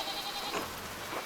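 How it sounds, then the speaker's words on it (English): A sheep bleats in the video game Pentiment, a short wavering cry heard over steady ambient background noise. "Some of our sheep escaped"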